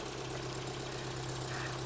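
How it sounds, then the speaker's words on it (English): A 1968 Datsun pickup engine with a blown muffler and exhaust leaks, idling with a steady low rumble and rough, knocking pulses. "You can hear it's got a blown muffler, it's got exhaust leaks"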